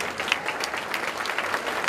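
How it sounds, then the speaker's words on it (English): Brief burst of audience applause at a school jazz night after a trumpet player is recognised, close, fairly even clapping with a few sharper individual claps standing out. "give Nick a round of applause"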